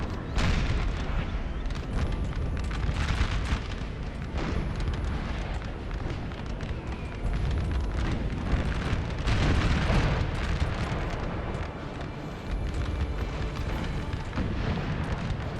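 Napoleonic battle in the Napoleon Total War video game: dense musket volleys and booming artillery blend into a continuous rumbling roar, with overlapping bursts and pops throughout at a fairly loud level.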